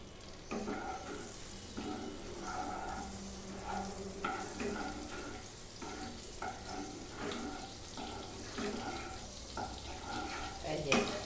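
Butter heating in a pan gives a steady low sizzle and crackle with faint stirring clinks. It sounds close and even throughout, with no talk.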